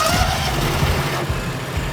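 Small lawnmower engines running at the start of a grass-cutting race, a steady rough mechanical drone held at even loudness throughout.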